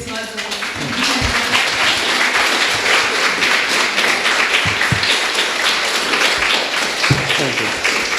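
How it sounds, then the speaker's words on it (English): Audience applause fills a conference hall, a sustained wash of clapping that swells after the first second and holds steady, with a few louder claps standing out near the end. "I'd like a round of applause"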